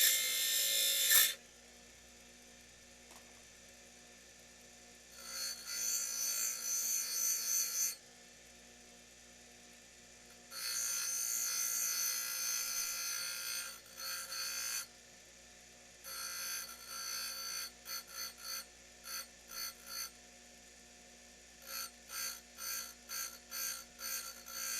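A drill bit is sharpened against a grinding or filing tool in bursts: several bright, rasping passes of a few seconds each, separated by quiet pauses, with a run of shorter choppy strokes toward the end, close and alone.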